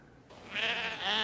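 A sheep bleats once in a drawn-out, wavering cry, close and fairly loud, with no voices over it.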